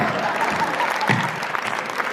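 A crowd applauds at a Hindi comedy poetry show (kavi sammelan), steady close clapping with a faint murmur of voices underneath.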